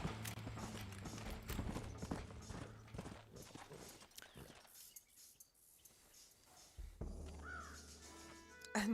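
Horse hooves clip-clop steadily in the Red Dead Redemption video game, loud at first and then thinning out, with a crow cawing and a brief mechanical sound near the end.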